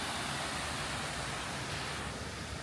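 The 9/11 memorial pool waterfall in New York City, water pouring over an infinity edge on all sides, gives a dense, steady roar of rushing water that stays constant and loud with no voices.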